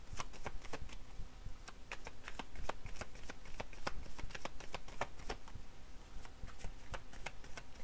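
A deck of cards is shuffled in a steady run of quick riffling flutters and snaps, close and continuous, with no talking.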